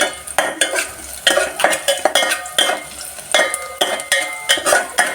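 Potatoes and onion sizzling in a pan as a spoon stirs them, loud close scraping strokes in a repeated rhythm over a continuous fry hiss, no talking.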